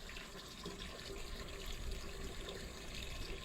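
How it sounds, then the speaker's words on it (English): Warm water runs steadily from a tap into a sink or basin to fill a soak for a broody hen, a constant close splashing rush with no voices. "I'm just gonna soak her in some warm water"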